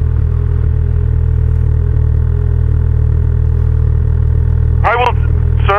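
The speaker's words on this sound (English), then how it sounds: "It's a loud engine." A loud car engine idles close by with a constant deep rumble, and a voice cuts in briefly near the end.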